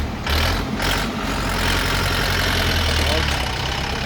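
A mini tractor's small engine idles and chugs steadily at close range, a constant low rumble with some broadband noise throughout.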